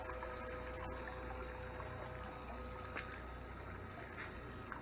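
A small pump in a 5 gallon bucket livewell circulates water, giving a steady, close whirring and gushing flow with a faint trickle running evenly throughout, and no talk.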